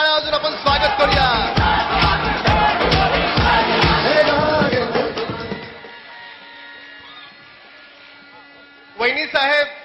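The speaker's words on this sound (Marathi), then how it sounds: "जोरदार टाळ्या वाजून आपण स्वागत करूया." A large crowd roars and claps at a Dahi Handi festival event in 2011, loud and dense for about five seconds before fading to a low murmur, then a brief burst returns at the end.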